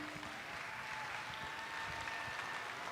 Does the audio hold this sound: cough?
no